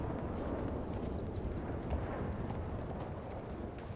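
Horse hooves clip-clop steadily in a French-language online roleplay game, a dense continuous rhythm of hoofbeats heard up close with no talking.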